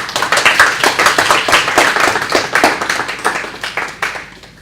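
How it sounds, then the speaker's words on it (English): Audience applauds to welcome Ambassador Kwon at a Korea economic workshop talk, a steady round of close, dense hand clapping with individual sharp claps standing out, fading slightly toward the end. "Please welcome Ambassador Kwon with a round of applause"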